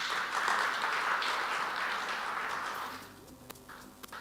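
Audience applause for a forest and wildlife director at a partnerships conference: a steady wash of clapping that thins and fades out after about three seconds, leaving a few scattered claps.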